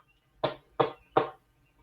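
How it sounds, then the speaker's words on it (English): A wolf knocking at a grandmother's house door in a cartoon, three evenly spaced knocks, close, crisp and moderately loud, with quiet between them. "the wolf ran straight to the grandmother's house and knocked at the door"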